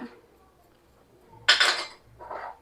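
Metal spoon scraping and clinking inside a pot of drumstick leaf soup, one loud burst of stirring followed by a softer second scrape, close by with no talk.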